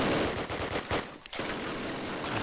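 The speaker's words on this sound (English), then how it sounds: "And a double headshot from Don." Gunfire in the World War II shooter Call of Duty: United Offensive during a competitive match, dense rapid bursts of automatic fire layered over each other, loud and continuous with a short gap midway, no voices.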